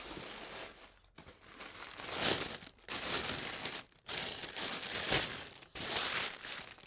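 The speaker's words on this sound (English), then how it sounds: "It's that copper gold paper. It is kind of loud when I move around, so I'm going to open it" A box wrapped in crinkly copper-gold paper is unwrapped, giving continuous close crinkling and rustling in several long bursts broken by brief pauses.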